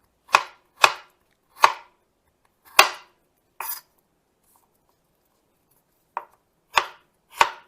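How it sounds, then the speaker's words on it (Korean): A knife slices thin pieces of ginger on a cutting board in crisp, separate chops, about eight sharp close strikes at uneven intervals with quiet gaps between them. "얇게 썰어주시면 돼요. 잘 우러나도록 얇게."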